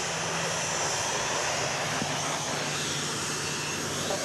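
A fixed-wing airplane at Dallas Love Field, taking off from runway 13 left and heard from a parking garage, gives a steady, continuous broadband engine roar throughout without a clear rise or fall.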